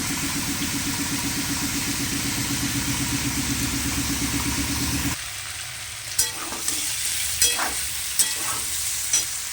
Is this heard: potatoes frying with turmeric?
yes